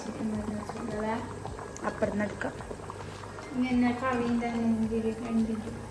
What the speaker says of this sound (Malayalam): ഇന്ന് കോക്കനട്ട് ഓയിലാണ് ചിക്കൻ ഫ്രൈ ചെയ്യുന്നുണ്ട്